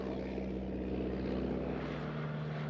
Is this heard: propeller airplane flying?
yes